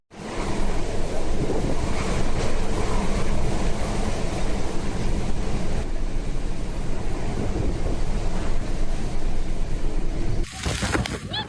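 Fierce typhoon wind and rain with high waves in Japan, a dense, continuous roar of gusting wind and surf buffeting the microphone, loud and unbroken except for a brief dip near the end.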